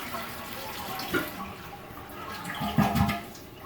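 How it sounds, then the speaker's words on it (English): A toilet fitted with a new wax ring flushes in a bathroom, rushing water rising and swelling loudly toward the end, close by, with a faint voice in the background. "So that was the first flush. Here's the second one."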